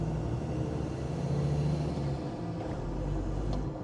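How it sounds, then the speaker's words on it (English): A Land Rover Defender Td5 diesel fitted with a remapped VNT turbo rumbles steadily under load at low revs, a continuous low engine drone with a faint turbo whistle above it, fairly close and unbroken throughout. "You can hear the turbo working lower down in the rev range as well"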